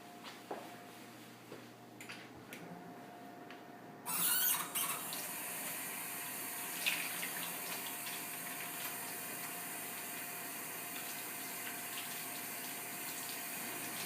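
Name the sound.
running water as hands are washed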